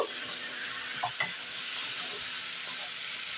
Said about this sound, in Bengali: লবণটা দিয়ে আবারও একটু নেড়ে দেব